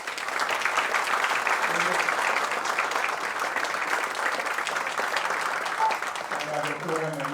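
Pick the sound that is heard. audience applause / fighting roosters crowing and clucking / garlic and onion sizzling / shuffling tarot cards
audience applause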